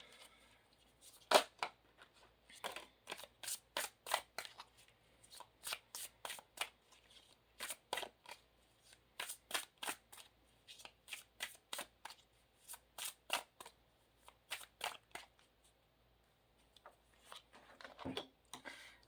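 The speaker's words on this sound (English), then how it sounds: "now I'm shuffling love oracle cards." Love oracle cards shuffled steadily by hand, a long run of crisp, evenly spaced card slaps and flicks, close and quiet, with no talking over them.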